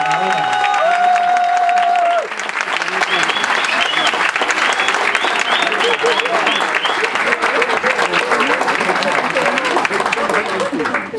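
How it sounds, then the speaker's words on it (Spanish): Loud, sustained applause from a large crowd, dense clapping throughout after a brief spoken phrase at the start. "Más fuerte ese aplauso."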